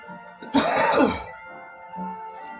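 A single harsh cough, loud and close, rasps out after a quiet moment and then fades into near silence.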